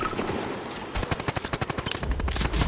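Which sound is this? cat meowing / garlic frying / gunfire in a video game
gunfire in a video game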